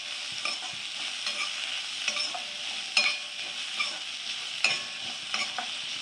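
Chopped onions sautéing in a pan for egg masala, a continuous close sizzle with regular ladle taps and scraping as they are stirred, no voices.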